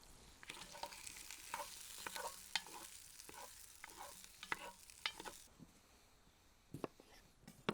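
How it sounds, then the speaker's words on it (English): Sausage and onions are stirred in a Dutch oven, a utensil scraping and clacking over a soft frying sizzle, quiet and close, with the sizzle dropping away near the end. "Give our sausage and onions a stir."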